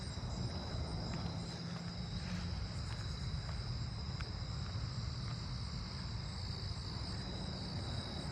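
Steady chorus of southern ground crickets trilling outdoors in a residential neighbourhood, an unbroken high-pitched drone over faint low rumble and light wind, with no voices.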